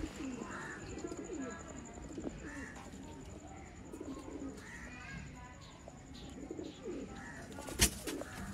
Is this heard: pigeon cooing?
yes